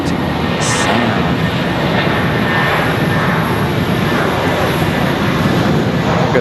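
An Airbus A319 or A320 airliner passing at Charlotte Douglas International Airport, a loud, steady broadband engine roar that holds throughout the clip.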